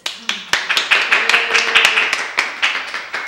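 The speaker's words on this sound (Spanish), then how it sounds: "con un fuerte aplauso le damos una cariñosa bienvenida a Felipe" An audience gives a warm round of applause to welcome a guest speaker at a talk, heard as close, steady, rhythmic claps with a faint voice underneath.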